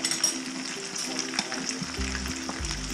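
Fried onions sizzling in a pan as tomato sauce and ketchup are stirred in, a steady close hiss of frying with faint scraping of a utensil and a low hum beneath.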